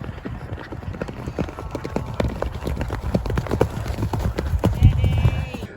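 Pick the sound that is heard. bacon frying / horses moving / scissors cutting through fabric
horses moving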